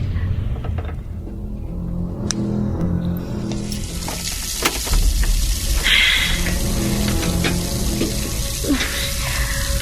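Water runs from a sink tap in a bathroom at night, a steady splashing and hissing stream that grows fuller partway through, close and alone.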